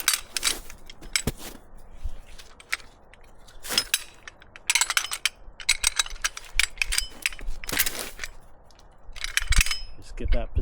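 Ratchet strap being cranked tight around a tree trunk to anchor a portable winch outdoors, heard as bursts of rapid mechanical clicking spread across the clip with pauses between, fairly close and moderately loud.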